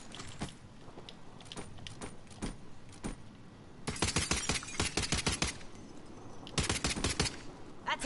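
Call of Duty Modern Warfare gunfire comes in bursts of rapid automatic shots, sparse cracks at first, then two loud, dense volleys later on, with no voices heard.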